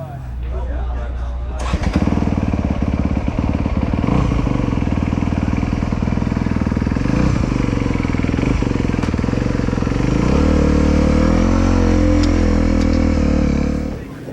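A 2022 Honda CRF250R motocross bike starts after a brief quiet moment, then runs loud and close with a rapid, buzzy single-cylinder idle and a few blips of throttle toward the end, outdoors at a motocross park.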